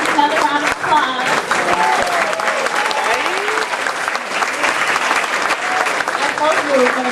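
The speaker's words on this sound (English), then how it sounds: "Another round of applause" Loud, steady applause from a school symposium audience, filling the room continuously, with voices and cheers mixed in beneath the clapping.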